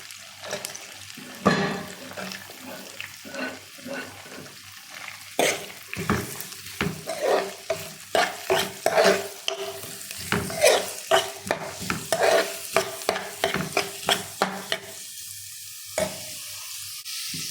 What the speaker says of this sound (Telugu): ఇప్పుడు తిరగట్లు వేస్తాను ఫ్రెండ్స్